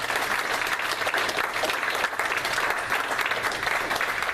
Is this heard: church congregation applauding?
yes